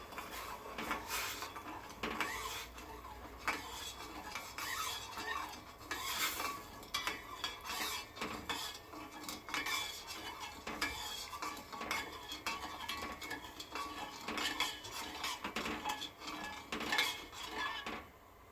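Sugar and two whole green cardamom pods being stirred in a pan for chocolate samosa syrup, a steady scraping and clinking of the spoon against metal repeating throughout, close and continuous with no talk.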